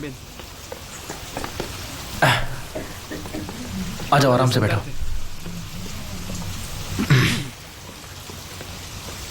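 Rain falls steadily as a constant, soft hiss across the whole stretch. A few people talk over it, and there are brief louder movements now and then.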